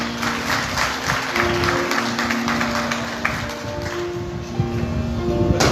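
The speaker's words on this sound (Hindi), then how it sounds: "उनके लिए एक सुंदर ताली।" An audience at a Bhagavat Katha religious gathering gives continuous applause, a dense patter of many hands. It is loud and sustained under a droning tone from a sound system, and there is no clear talk.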